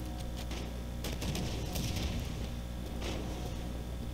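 Rapid gunfire from a Halo 5 match, bursts of shots crackling through a dense, loud battle din with a few sharper volleys standing out, no talk over it.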